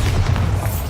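A Bombarda blasting spell from Hogwarts Legacy erupts as a deep, sustained low rumble, loud and close, rolling steadily through the whole moment without a sharp attack.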